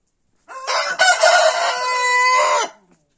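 A rooster in a backyard poultry coop gives one loud, close crow lasting about two seconds, clear and alone with no talk around it.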